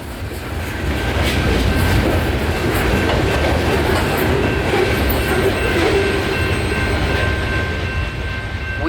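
Steady rumble and rattle of a train rolling past at night in Lakeland, Florida, with faint clickety-clack of wheels and a thin high whine, continuous and fairly loud throughout.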